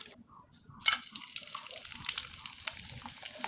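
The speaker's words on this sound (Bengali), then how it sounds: "এবার চিপসের যে বাড়তি অংশগুলো ছিল সেগুলো কিন্তু আমি ভালোভাবে রোদ্রে শুকার পরে একবার ভেজে দেখিয়ে দিচ্ছি।" Sun-dried rice flour chips frying in hot oil, a steady bubbling sizzle that starts abruptly and continues evenly at close range, without talk.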